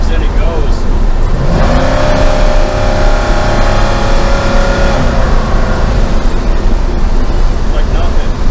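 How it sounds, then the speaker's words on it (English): A 40-year-old truck with triple its stock power accelerates from the cabin, with a loud broadband engine roar and rising drivetrain tone swelling midway and holding throughout. "you can give it very little throttle and it just digs in and goes."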